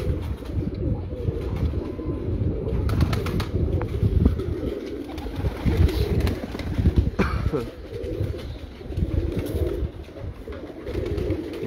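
Teddy pigeons cooing in a breeder's loft, soft, continuous low coos layered together under a constant close background murmur, with a few faint chirps and brief wing or handling noises.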